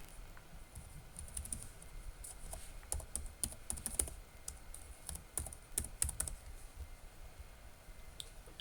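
Quiet, close typing on a computer keyboard, irregular bursts of light key clicks with short pauses between words, alone without talk.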